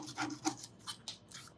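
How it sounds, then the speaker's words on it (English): Small hand saw cutting off the ends of wooden dowels on a steel-string guitar neck, heard as a handful of quiet rasping strokes in an uneven rhythm with no one talking. "Now I'm going to use this same little saw here and just saw off those dowel ends"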